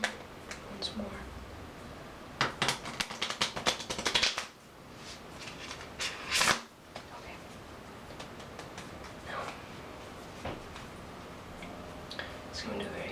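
Playing cards being shuffled up close for a card trick, a run of crisp riffling bursts and soft flicks, with quieter handling between them and no voices.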